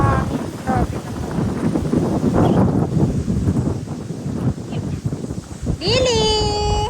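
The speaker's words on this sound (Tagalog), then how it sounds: "Ang hangin. Grabe naman." Strong wind buffets the microphone in loud, roaring gusts while a voice speaks briefly underneath, then a high whistling tone rises near the end.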